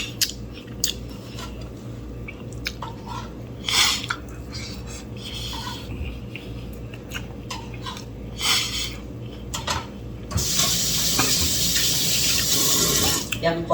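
Water runs from a kitchen tap into a sink while cooking breakfast, with dishes and utensils clinking nearby; the flow surges loudly near the end and people talk over it.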